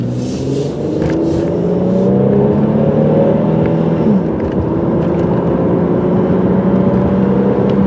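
A 2000 Pontiac Grand Prix GT with its 3.8 liter engine accelerating in rush-hour traffic, a loud, steady engine drone heard from inside the car that rises in pitch as it speeds up toward highway speed.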